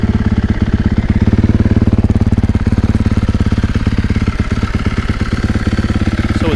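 A 2023 KTM 450SXF dirt bike engine with a new ECU starts and runs at a steady, rapid putter, loud and close, holding an even idle throughout with a mechanical clatter.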